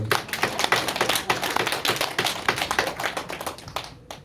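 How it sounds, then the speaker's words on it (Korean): A church congregation claps together at a Sunday service, brisk sharp hand claps packed densely and fairly close, holding a lively steady pace before stopping abruptly at the end. "우리 오늘도 하나님 앞에 힘껏 박수로 하면서 먼저"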